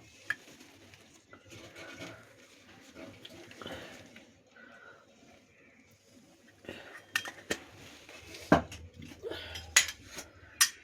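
A spoon clinks against a pan while turmeric powder goes into a Bombay duck (lote fish) curry, scattered sharp metallic taps and scrapes that build into a quick cluster of clinks near the end.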